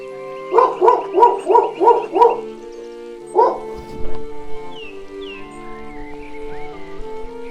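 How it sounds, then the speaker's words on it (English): A dog barks indoors in a quick burst of five loud barks, then one more bark after a pause, followed by softer whimpers and yips fading under a quiet background. "Sorry for the dog interruption."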